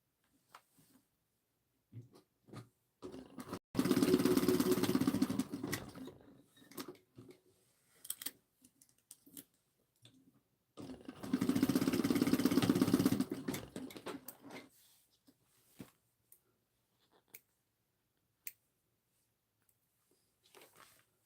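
Sewing machine stitching the corners of a fabric pouch, two sustained bursts of steady mechanical whirring a few seconds each, separated by quiet pauses with small handling clicks and taps.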